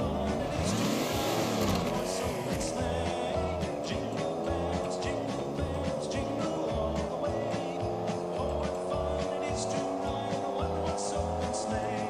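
Race-car engine sound in the Roblox Jailbreak video game, revving loudly with a steady droning pitch and a repeating pulsing rhythm, accompanied by brief quiet talk.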